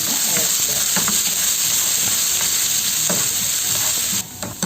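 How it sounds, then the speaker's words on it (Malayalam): Cumin seeds and urad dal crackle in hot oil in a pan, with repeated scraping stirs over a loud, constant sizzle that drops away near the end. "ഇതൊന്ന് ഇളക്കുക."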